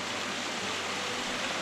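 Steady, dense roar of a waterfall in a Peak District gully, close by and continuous, with no talk over it.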